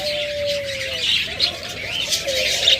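Pet budgerigars, cockatiels and lovebirds call close by, a busy mix of chirps, tweets and short squawks overlapping continuously.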